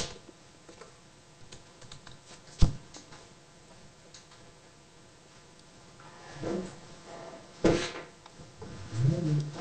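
Keys on a computer keyboard are pressed in sparse, quiet clicks with a few louder sharp taps and a short burst of presses near the end, with a faint voice in the background.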